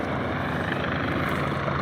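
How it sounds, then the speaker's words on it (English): A rescue helicopter overhead at Dead Man's Curve, a steep mountain curve, heard as a steady, throbbing rotor drone with a rapid low pulse, constant and moderately loud. "I can hear the helicopter."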